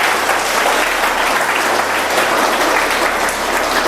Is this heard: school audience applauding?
yes